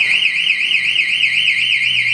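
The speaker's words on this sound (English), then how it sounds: "There's the alarm, which you heard already" A coin pusher machine's security alarm wails continuously, a loud warbling electronic siren pulsing about six times per second, close and steady.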